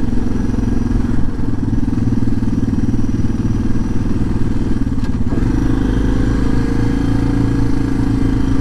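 A Suzuki DR650 single-cylinder motorcycle engine running steadily while riding at around 10,000 feet altitude, a loud continuous thumping drone with wind rush, close up and uninterrupted, with a brief dip in the middle.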